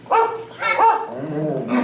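A dog barks in a few sharp, close bow-wow yips with a whimpering edge, spaced in an uneven rhythm and heard alone without talk.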